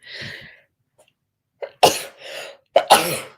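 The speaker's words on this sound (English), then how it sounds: "I'm about to sneeze" A person sneezes twice in quick succession after a short breathy buildup, close and loud, with no talking.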